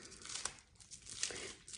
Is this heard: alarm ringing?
no